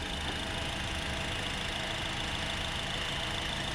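A 2012 Honda Accord engine idles under the open hood, a steady, even hum with no change in pitch or level throughout, close by and with no talk.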